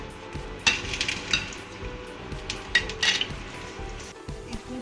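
Chopped red chili and onion sizzle in hot coconut oil in a pan, a steady close frying hiss with a few scattered bright clinks and stirring scrapes.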